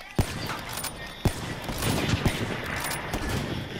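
Call of Duty gunfire, including a shot through a wall, comes as scattered sharp cracks and short bursts over a busy, noisy game background, with no one speaking.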